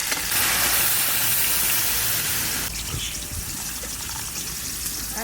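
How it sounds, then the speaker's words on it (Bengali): Water pours steadily into a pot of fried-down goat (mutton) curry cooked with ground spice paste and spring onions, a loud continuous gush for about three seconds that then eases into a softer trickle and simmering hiss. "এবার জল দিয়ে দেবে"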